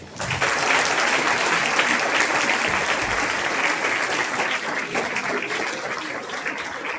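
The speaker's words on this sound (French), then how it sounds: "Merci de les applaudir encore." Steady, dense applause from a large crowd fills the whole stretch, loud and sustained with no talking.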